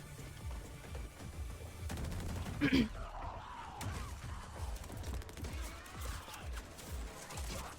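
Gunfire in the Black Ops 7 Zombies game, with a sharp burst of shots near the three-second mark over a busy game mix of music and effects, with a person talking over it.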